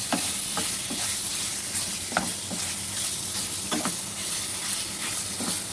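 Small boneless chicken pieces, about 400 grams, sautéing in a pan: a loud continuous sizzle with regular scraping strokes of a spoon roughly every second, no talking.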